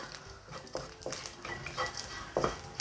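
Three-layer pork belly fries in a pan while a utensil stirs and scrapes it. Soft sizzling runs under repeated clinks and scrapes against the pan, with no talking.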